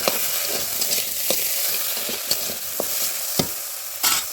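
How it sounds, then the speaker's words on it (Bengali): Panch phoron, the five-spice seed mix, frying in a pan, a steady close sizzle broken by sharp scraping stirs. "তো দেখো ভেজে নিচ্ছি 5 ফোড়ন দিয়ে।"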